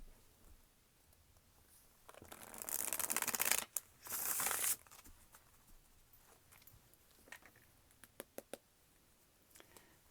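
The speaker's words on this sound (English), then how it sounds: "Three shuffles and cutting the cards." Two quick bursts of crisp riffling, like cards being shuffled, followed by a few soft taps and clicks in an otherwise quiet room.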